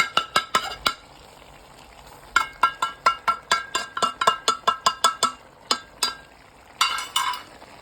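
A spatula scrapes and clinks against a pan as roasted spice powder is stirred into frying chicken. Quick rhythmic scraping strokes come in bursts with short gaps, close up, over a faint steady sizzle.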